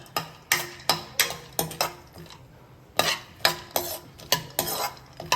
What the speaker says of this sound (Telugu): సో ఫస్ట్ మనం డ్రై ఫ్రూట్స్ని వేయించుకోవాలి గీలో